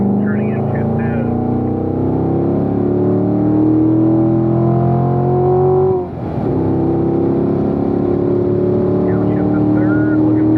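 A Corvette engine drones loudly through a lap at Spring Mountain during a performance driving school, its pitch climbing steadily, dipping briefly at a shift, then climbing again, with an instructor talking over it.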